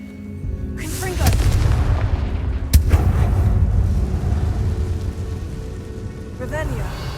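A Confringo fire spell cast in the PlayStation 4 game Hogwarts Legacy bursts out with a roaring, crackling whoosh and a sharp booming impact. A steady fiery rumble carries on for several seconds before a final flaring sweep.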